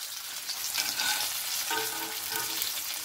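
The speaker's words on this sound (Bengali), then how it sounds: "বাকি সবকটা মাছ আমি এইভাবেই ভেজে নেব।" Bombay duck fish frying in hot oil, a steady close crackling sizzle that holds throughout with brighter bursts of spitting, and no voices.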